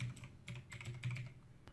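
Keys on a computer keyboard clack in quick irregular bursts as a short search is typed, close and fairly quiet, ending with one sharper tap.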